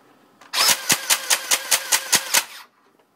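A motorized Nerf Vulcan powered by a 12-volt battery whirs briefly and fires a rapid, evenly spaced burst of about ten loud, close pulses, then stops.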